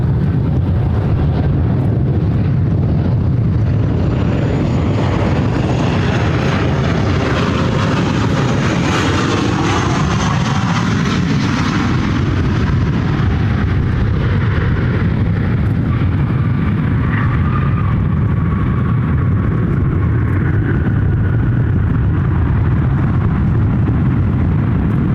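Flight from Phoenix landing on runway 26 right at Ontario Airport, a loud sustained jet roar with a sweeping pitch shift as it passes, then rumbling on with wind buffeting.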